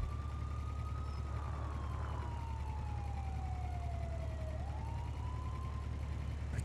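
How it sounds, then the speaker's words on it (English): A police siren wails in GTA 5 roleplay, a single fairly faint tone sweeping slowly downward and then rising slightly, heard alone over a steady low background hum. "Keep hearing some random sirens"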